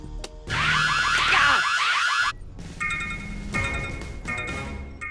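An energy detector in the Bakugan cartoon sounds off with a loud, warbling electronic alarm of rising and falling bleeps, then continues in a lower, pulsing pattern of tones and chirps.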